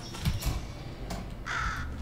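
In the video game Portal Stories: Mel, a crow caws a few times, loud and close, over a dense steady background hum of machinery.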